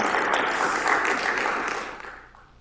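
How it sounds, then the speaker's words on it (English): Applause from a conference audience after an evening event, a dense wash of clapping that holds steady and then fades out toward the end. "I think the local team earns applause for that nice evening."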